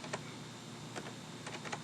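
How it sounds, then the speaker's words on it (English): Several short bursts of keystrokes on a computer keyboard, entering a warehouse product location code, with quiet gaps between the bursts and no talking. "We type this into the location field"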